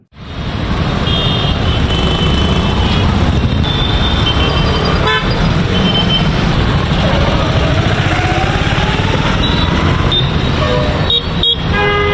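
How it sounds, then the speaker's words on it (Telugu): Heavy road traffic crowds a bridge in Ajit Singh Nagar, Vijayawada, as a loud, unbroken roar of cars, trucks and motorcycles with frequent horn toots and honks runs throughout, close by. "ట్రాఫిక్ బాగా ఎక్కువగా ఉందండి బ్రిడ్జ్ సరిపోవట్లేదు"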